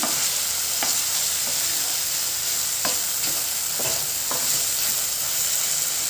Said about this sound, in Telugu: పచ్చివాసన పోయేదాక వేసుకున్నాము టమాటా కాస్త మెత్తగా కావాలా